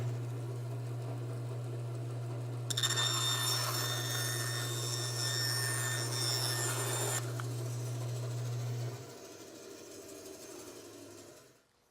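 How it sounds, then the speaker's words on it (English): A bandsaw cuts a turned wooden bowl in half, its steady low motor hum running throughout while a bright, rasping cutting burst rises in the middle, then the machine winds down near the end. "I think I might just cut it in half on the bandsaw"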